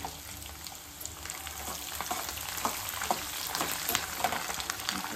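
Green chilies fry in hot oil for pulihora lemon rice, a steady close crackling sizzle with scattered pops and light stirring, no talk.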